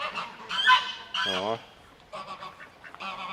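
Loud honking calls from a goose-like waterfowl, taken to be a mother duck anxious over her duckling at a farmyard in Dudutki, Belarus, come in several close bursts with brief pauses; a short voice is heard once.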